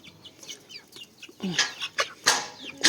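Chickens in a farmyard, with a red rooster among the hens, giving a run of clucks and short calls at close range, several sharp louder bursts toward the end, no speech.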